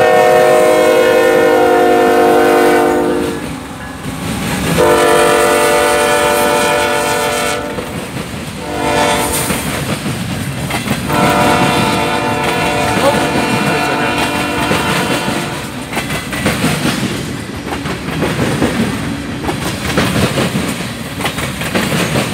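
A CSX freight train hauling oil tank cars rolls past at Deshler, Ohio, sounding long, loud, close horn blasts in repeated sequences over the steady rumble and clatter of the passing cars.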